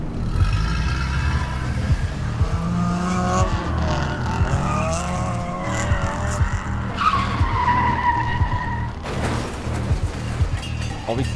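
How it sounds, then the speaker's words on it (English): A car accident in The Bookwalker video game: loud tire squeals and skidding screeches with revving engine, rising and bending in pitch, then a sharp abrupt crash-like break near the end. "We just heard the accident."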